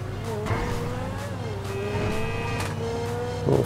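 A supercar in GTA 5 roars steadily with shifting engine pitch, its exhaust giving sharp intermittent backfire pops and crackles throughout, loud and close.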